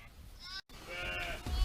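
Sheep and lambs bleat in a lambing barn, several overlapping calls at close and middle distance over a steady barn background, with a brief break partway through.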